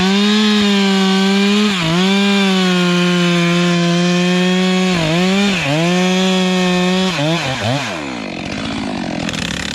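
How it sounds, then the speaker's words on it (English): Two chainsaws cut through a tree log in the forest, a loud, steady engine whine that holds strong, dips briefly as the blades bite, then winds down near the end. "Two men, two chainsaws, working in perfect harmony."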